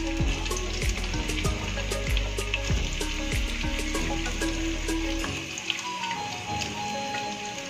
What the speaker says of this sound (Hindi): कढ़ाई रख लिए हम, इसमें 150 ग्राम तेल डाल लिए हम, इसको अभी फ्राई करेंगे।